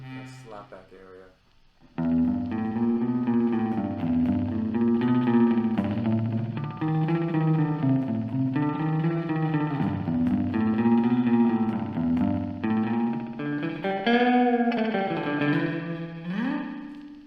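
Guitar played through a Guyatone MDM5 Micro Delay pedal with the delay time set to a short slapback, sustained chords and bends each trailed by a quick echo, loud and continuous after a brief quieter intro.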